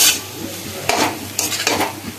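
Cabbage is stir-fried with spices and potatoes in a pan over a low flame, a soft sizzle broken by several scraping stirs of a spatula.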